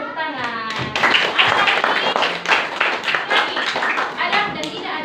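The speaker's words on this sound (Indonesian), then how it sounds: "Oke, tepuk tangan." A classroom of students claps, the sharp, irregular hand claps building into brisk applause, with children's voices chattering underneath.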